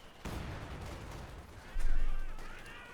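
Heavy mortar fire in Company of Heroes 2: a sharp launch thump followed by a louder, rumbling explosion that swells and fades, with a faint voice in the background.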